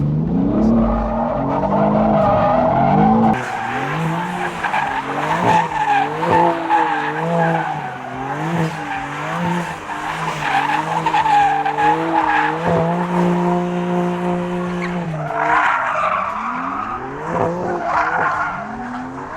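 A 600hp BMW M2 G87 drifting in drift mode at Santapod, engine revving up and down in repeated surges while the tires squeal and skid almost continuously, loud and close.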